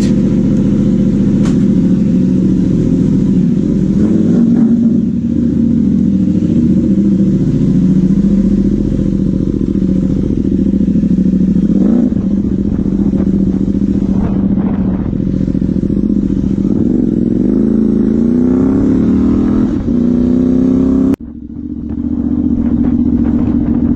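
A warmed-up motorcycle engine runs at a steady idle with low rumbling and light mechanical clatter, throttle rising briefly near the end before dropping and settling back to idle, close and loud, no one talking.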